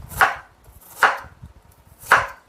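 A knife julienne-cutting vegetables into 0.5 cm strips on a cutting board, three crisp, evenly spaced chops close up with quiet board knocks between them.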